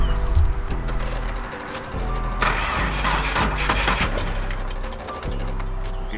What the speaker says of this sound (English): we're going to try and give the Subaru WRX a start and crank it and see if it will roll over and start up.